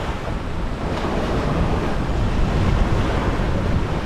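Ocean waves wash and break steadily on a beach on Lombok, Indonesia, a continuous loud roar of surf with wind noise and no voices.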